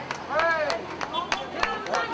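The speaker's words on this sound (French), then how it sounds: "On applaudit, s'il vous plaît, on applaudit, on applaudit," A crowd at a street protest in Paris claps in scattered, uneven bursts while a voice calls out over them, fairly faint and distant.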